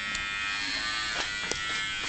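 Electric hair clippers buzz steadily while cutting a man's hair, a continuous close, bright drone with faint snips of hair being cut, with no talking.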